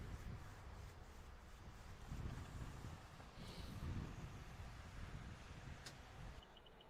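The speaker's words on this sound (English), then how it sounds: "the wind outside is picking up big time" Strong wind during a Pacific Northwest snowstorm, a steady, faint broadband rush and roar outdoors that swells slightly midway, with no talking.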